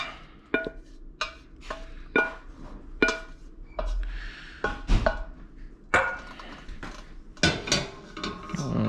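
Spoon scraping leftover mushroom risotto out of a pot: a series of close, bright metallic clinks and scrapes in an irregular rhythm, with some heavier knocks against the pot.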